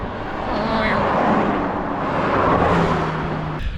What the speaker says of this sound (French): Il n'y a que des Porsche qui montent. Regardez-moi ça, que des Porsche.